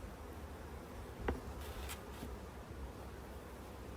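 Honey bees at an open beehive during a summer hive inspection hum in a steady, soft drone, with a few faint clicks and rustles and no talking.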